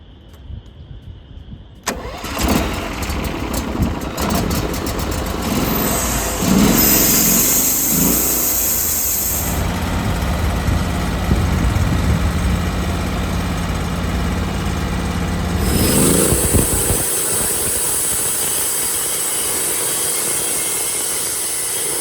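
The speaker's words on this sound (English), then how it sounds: "which will hold it solid as the mill cuts through it and does its thing." A mill rips through a black cherry log held on an old maple bench top: a motor starts up, then a long, loud, steady sawing whine with a high-pitched ring that fades and returns.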